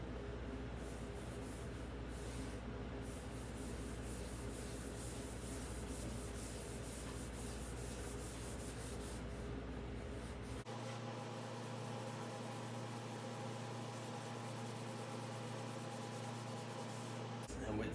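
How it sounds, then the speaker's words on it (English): Steel wool rubs wax into a wooden farmhouse table along the grain, a continuous, even scrubbing hiss that runs steadily the whole time with no pauses. "you want to take your steel wool, and you want to get a lot of wax on there. And basically just follow the grain"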